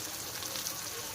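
Mutton curry sautés in a pan with a soft, even sizzling hiss that holds steady throughout the short moment, with no talking.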